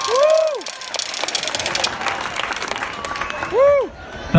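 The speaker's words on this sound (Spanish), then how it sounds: "Fuerte el aplauso para nuestro jurado" An audience applauds for the jury at a regional COBACH beauty pageant. The clapping is a steady wash that runs through the middle of the clip, with a voice speaking over the start and the end.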